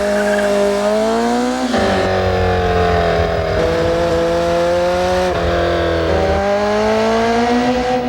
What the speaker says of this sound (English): When the engineers at Nissan designed the new 240SX, they wanted it to have certain acceleration characteristics.